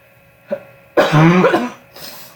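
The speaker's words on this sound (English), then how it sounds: "You got to get all your coughing out of the way." A short cough, then a louder, harsher cough close to the microphone, followed by a faint breath.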